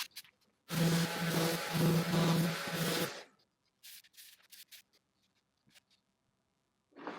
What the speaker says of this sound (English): Sand everything.